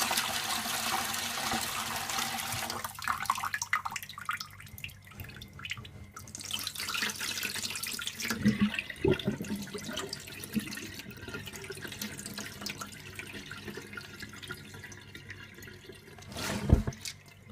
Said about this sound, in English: Just wash it, guys, until the water became very clear.